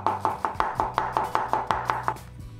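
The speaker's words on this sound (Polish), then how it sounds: "Kroję w pióra" Four onions, three large and one small, sliced into thin half-moon strips with a knife on a board: a steady run of about eleven crisp, evenly spaced chops, close and fairly loud, with no talking.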